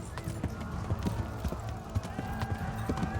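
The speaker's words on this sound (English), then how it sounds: "Go, horsey." Horse hooves gallop in rapid rhythmic clip-clop beats in the medieval video game Kingdom Come: Deliverance, steady and fairly close, with a voice talking over the running hooves.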